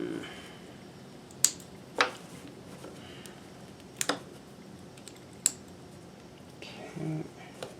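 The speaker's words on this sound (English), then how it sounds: "I'll just cut the thread jumps here." Scissors cut thread jumps on a piece of sewing, a few sharp, separate snips spaced apart against a quiet background, close by.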